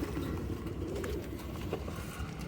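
Banded pigeons in a loft coo in a low continuous murmur, soft and somewhat distant, with rustling and other faint background sounds.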